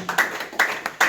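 Audience clapping at a national honorary award ceremony, a short burst of scattered claps in uneven rhythm, close and moderately loud, without voices.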